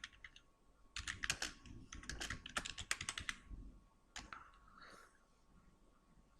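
Quick bursts of keystrokes on a computer keyboard patter close by, broken into uneven runs with short pauses and a few isolated taps near the end.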